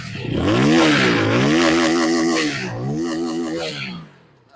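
A QJMOTOR SRK250R motorcycle engine revs up, drops, and revs again, a loud rising and falling whine with a rough exhaust edge, then cuts off.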